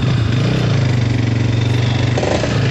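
A Bajaj Pulsar NS200 motorcycle with a worn chain sprocket runs steadily and loud up close, its engine note pulsing evenly as it is put into gear and pulls away, with a slight shift in tone near the end.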